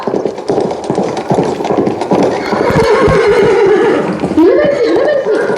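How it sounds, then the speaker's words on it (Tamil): A horse neighs loudly and its hooves clip-clop closer in a school play, with a long whinny rising near the end over a busy, close background. "அங்கே யாரோ குதிரையில் வந்து கொண்டிருக்கின்றார்கள்"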